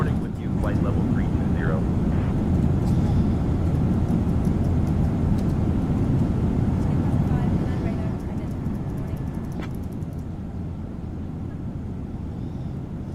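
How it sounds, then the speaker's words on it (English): Boeing 777-200 airliner cruising at flight level 320 in a flight simulator game, a steady broadband engine and airflow roar held fairly loud throughout, easing slightly quieter toward the end. "Let me know if you guys can still hear the airplane enough."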